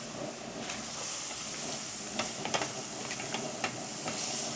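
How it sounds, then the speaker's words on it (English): Mushrooms cooking in a pan, a steady soft hiss and sizzle at low volume with a few faint clicks and taps of utensils, no one talking. "The mushrooms are being cooked."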